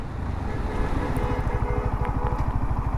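A Royal Enfield Hunter 350 motorcycle cruises at speed near 80 km/h, its single-cylinder engine thumping in a steady rapid pulse under heavy wind rush, loud and close throughout.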